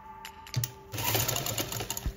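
A sewing machine stitches fabric for a baby bonnet, starting after a few light clicks and running in a short burst with a steady motor hum, close by and alone.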